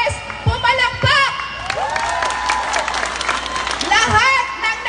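Crowd applause and cheering at the Dinamulag Festival street dancing competition in Zambales, steady clapping under a loud announcer's voice over a PA.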